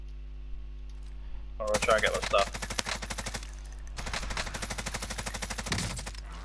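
Automatic gunfire from Call of Duty: Modern Warfare Warzone rattles in rapid bursts, with a dense volley near the start and a second long stream of regular shots later, under a steady low hum and occasional player talk.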